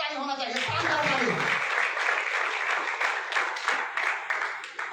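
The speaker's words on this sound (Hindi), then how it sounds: "तो एक बार जोरदार ताली होना चाहिए, शानदार ताली।" Loud, sustained clapping from an audience at a Hindi-language farm products meeting, steady and even throughout, opening over a few trailing spoken words.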